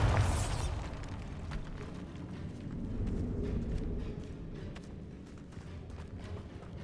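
A Bombarda blasting spell detonates in Hogwarts Legacy, a sharp burst at the start that rolls into a long rumbling tail of debris and clatter, moderately loud with no voices.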